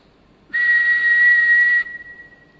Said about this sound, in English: I can turn it on by whistling.